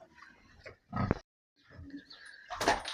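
Hungry pigs grunting and snorting in short bursts close by on a village farm in the evening, with a louder squealing grunt near the end and quiet gaps between.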